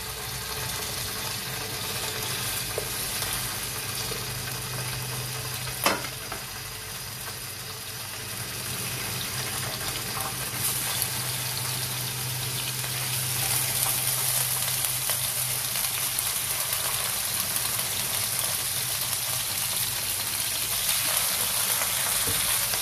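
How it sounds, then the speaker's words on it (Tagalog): Skipjack tuna frying lightly in a pan of hot oil, with a steady, even sizzle throughout and one brief sharp clatter partway through. "Ipiprito muna natin ng bahagya yung tulingan."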